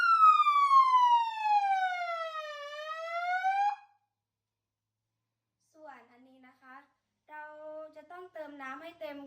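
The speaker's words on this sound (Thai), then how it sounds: "เราจะส่งสัญญาณไปยังไซเรนกลางหมู่บ้านค่ะ" A loud electronic flood warning siren sweeps downward then back up for a few seconds, then falls silent before a voice speaks in short phrases.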